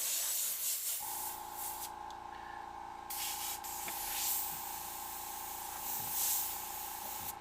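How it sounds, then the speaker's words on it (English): An airbrush sprays paint in one long, steady hiss, close and continuous, with slight changes in pressure partway through. "Do a quick little airbrush signature on this one"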